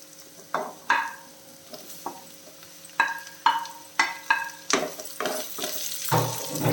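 Ivy gourd sautéing with half-softened onions in a pan, with repeated sharp scrapes of a spatula stirring, each followed by a sizzle that fades. The strokes grow busier toward the end and no one speaks.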